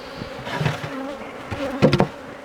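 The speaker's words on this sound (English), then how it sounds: "I always shake any remaining bees off that frame." Honeybees buzz steadily around an open beehive during an inspection, a close, continuous drone with a louder swell near the end as bees pass by.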